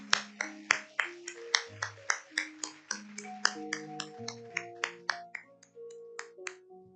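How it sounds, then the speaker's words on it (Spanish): A church congregation claps along at a Sunday service, sharp claps landing in a steady rhythm through the whole stretch while organ or keyboard chords sustain beneath them, the room sounding fairly close and lively. "¿Por qué no le damos al Señor un aplauso?"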